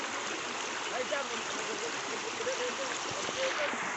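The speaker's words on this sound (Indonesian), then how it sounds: "Tapi aliran sungai ini masih tetap nyambung sama yang tadi." A river stream flows steadily with a broad, even rushing of water, close and constant, and a voice talks faintly beneath it.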